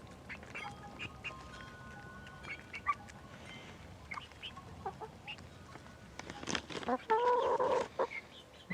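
Backyard hens cluck and chatter while eating mealworms, with scattered close bird calls and a burst of louder squawking and clucking toward the end; a person speaks softly in the background.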